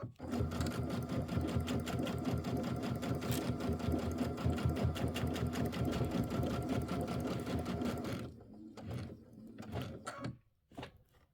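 A sewing machine stitches through a quilted Christmas wall hanging in a steady, continuous run for about eight seconds, then slows into a few short, separate bursts before stopping.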